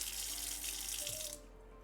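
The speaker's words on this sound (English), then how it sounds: "I'm going to rinse off my bench scraper because it is covered in peach juice." Tap water runs into a kitchen sink to rinse a bench scraper covered in peach juice, a close, steady splashing stream that cuts off partway through, leaving a quiet room.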